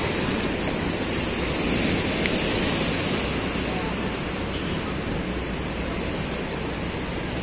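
Sea waves wash steadily onto the beach at Ibrahimiya in Alexandria, a constant broad rushing surf with wind buffeting the microphone and no distinct breaks.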